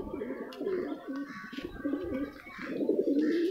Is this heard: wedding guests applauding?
no